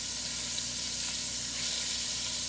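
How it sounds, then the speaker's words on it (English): Beef sizzling as it sears in a hot pan with bacon fat, a steady close hiss of frying holding at an even level throughout with no talking. "You want to sear all the sides, a couple minutes each."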